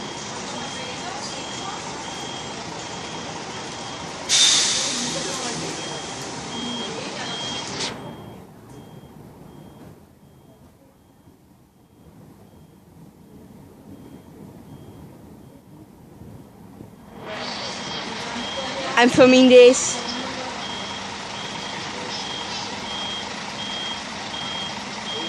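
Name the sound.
bus reversing beeps as it departs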